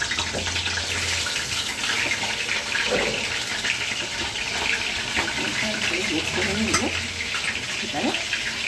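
Tap water runs steadily in a home kitchen as hands are washed, a continuous close splashing gush with someone speaking over it now and then.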